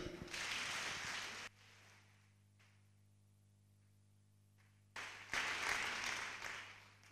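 Church congregation applauding loudly, a burst of clapping for about a second and a half, then a quieter stretch with steady low hum, before a second strong round of applause swells up and carries on.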